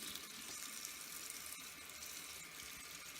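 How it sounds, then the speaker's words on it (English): Hot water runs steadily from a tap into a sink while a wig is washed, a continuous hissing splash with no talking. "I washed it with hot water"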